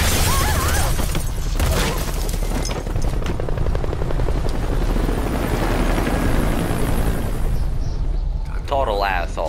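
Loud helicopter in the video game Metal Gear Solid V, its rotor chop and engine roar filling the scene continuously, with rumbling impacts and a bright electronic tone near the end.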